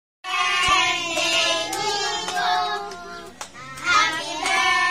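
Hands clap together through a birthday song for a seven-year-old child; the clapping stays steady and fairly close, mixed in with the celebration sounds.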